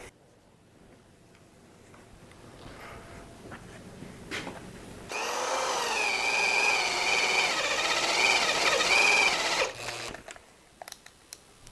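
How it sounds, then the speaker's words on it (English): A power drill bores bolt holes for a motorcycle handguard on a Suzuki big-bore dual sport and strains until it smokes. One sustained, near, fairly loud whine lasts about four seconds, followed by scattered clicks and taps. "Ooh, smoke coming out of the drill."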